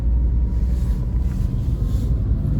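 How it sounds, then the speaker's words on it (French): Porsche 997 engine during a test drive in Germany, a steady low droning rumble with wind noise, continuous and fairly loud with no talk. "on va passer à l'essai de la Porsche 997"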